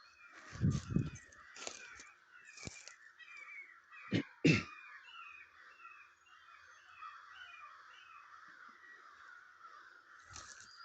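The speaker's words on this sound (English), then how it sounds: "Sounds like a bunch of crows." Several crows caw from a distance, their harsh calls spaced out against a quiet background, with a few sharp knocks near the start.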